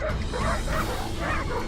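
A pack of dogs yips and barks in quick overlapping bursts while surrounding a leopard, the excited cries fairly close and repeating continuously through the moment.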